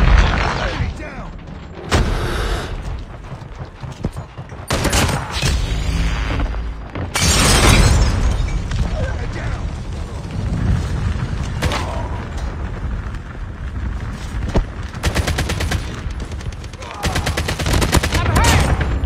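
Gunfire in the Call of Duty Mobile video game rattles in loud, close bursts amid sharp clanks and shattering impacts, with game chatter and mechanical noises in between.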